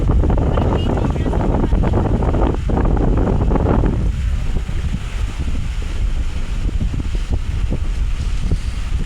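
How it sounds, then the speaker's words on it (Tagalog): Strong wind buffeting the microphone in a loud, constant roar, with water and waves faintly beneath it. "lakas ng hangin"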